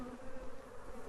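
Bees swarm in the rafters of a building, a soft, steady buzzing drone with faint wavering pulses, close but quiet, with no talking.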